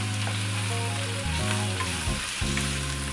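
Chicken breast with curry paste sizzles in a pan while being stirred, a constant close frying hiss with occasional scraping, over faint background music.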